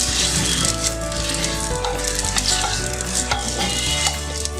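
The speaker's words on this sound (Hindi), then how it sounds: "प्याज डाल दिया, प्याज को हमने जो है वो ब्राउन करना है।" Onions browning in hot oil for a chicken matka biryani give a loud, dense, continuous sizzle and crackle close up, with occasional stirring rattles and a low steady hum beneath.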